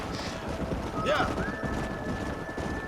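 A Kentucky Saddler horse in the Red Dead Redemption video game clops along with rhythmic hoofbeats, with a brief whinny-like cry amid steady game ambience and someone talking over it.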